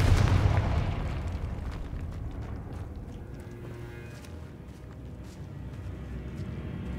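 A Confringo spell blast in Hogwarts Legacy bursts with a loud, booming explosion at the start, then trails off into a long, low rumbling tail.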